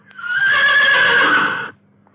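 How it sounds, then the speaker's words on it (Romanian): A horse whinnies loudly in a radio audio drama based on a Romanian folk tale, one long, strong neigh lasting about a second and a half, alone and close, then fading to quiet. "calul lui Țugulea ne treză cu putere și îl trezi din somn"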